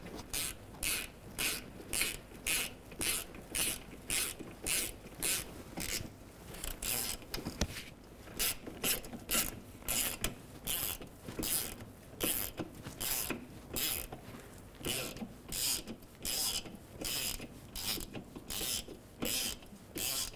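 A ratchet clicks in quick, even bursts while snugging a bolt on a parking brake bracket of a Toyota RAV4, the faint metallic ticking repeating in short strokes with brief pauses between.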